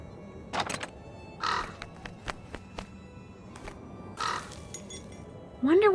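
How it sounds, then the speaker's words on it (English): A crow in the Nancy Drew game The Haunting of Castle Malloy caws twice in short harsh bursts, mixed with scattered thumps and taps, ending in a louder rising cry. "Wonder what that crow's doing in there."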